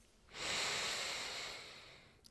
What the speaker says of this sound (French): Je vais te demander d'inspirer.